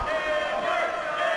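A wrestling arena crowd chants for AJ Styles during his match with Hannibal, a loud sustained roar of many voices filling the hall.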